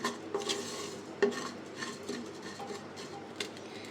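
Rice is dry-roasted and stirred in a pressure cooker, giving repeated gritty scraping and metallic clinks of a spoon against the pot, close and moderately quiet, with faint patter from the grains.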